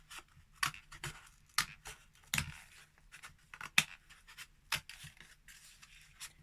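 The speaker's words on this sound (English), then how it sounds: "And then you can get your scissors in to go round and just trim it off." Intermittent snips and rustles of scissors cutting paper up close, a handful of sharp cuts spaced irregularly with quiet gaps between.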